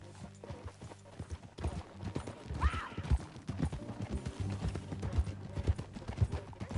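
Steady clip-clop of horse hooves at a walking pace in Red Dead Redemption 2, with a brief whinny partway through, amid light ambient background.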